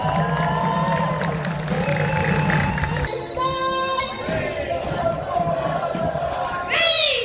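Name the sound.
crowd applause and cheering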